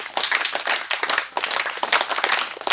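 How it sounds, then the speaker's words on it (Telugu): An audience applauds students at a Koya Adivasi food culture awareness event in Papaiguda village, with dense, steady clapping throughout and no pauses. "ఒకసారి గట్టిగా వారి కోసం గట్టిగా చప్పట్లు"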